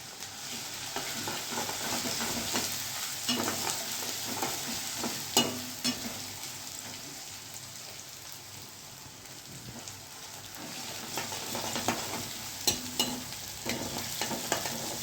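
Onion and ginger-chili paste frying in a pan, a continuous soft sizzle with frequent stirring clatter and scraping, quiet and close, with no talk.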